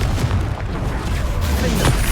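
Blasting spell explosions in the Hogwarts Legacy video game, a sustained low rumbling boom with muffled bursts layered over each other, loud and continuous with no voices.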